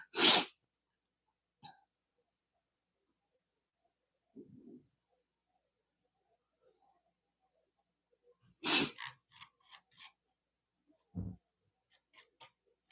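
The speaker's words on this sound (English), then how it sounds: "Oh, I had to sneeze." A loud, close sneeze bursts out at the start, followed by quiet breaths and rustles, then a second sharp sneeze and a short snort.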